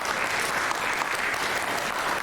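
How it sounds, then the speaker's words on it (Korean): A church congregation applauds during a Christmas celebration service, dense and continuous clapping at an even level throughout, with no voices on top. "한번 크게 박수하겠습니다."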